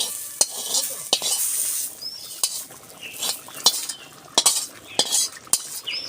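A spatula stirs fenugreek chicken with fried methi leaves in a metal pan, giving sharp scraping clinks at irregular intervals over a soft, low sizzle, close by and with nobody talking.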